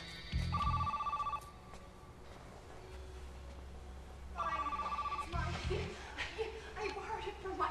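A telephone rings in repeated double bursts of bright electronic trilling, with a low hum and some background speech between and around the rings.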